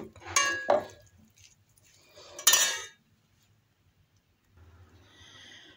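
Spoon mixing a spinach, cheese and yogurt filling in a bowl, producing two short bursts of clinking and scraping separated by quiet, with faint background noise afterward.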